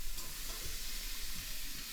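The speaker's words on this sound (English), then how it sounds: "Already sizzling." Food sizzles in an air fryer, a steady faint crackling hiss running evenly throughout with no voices.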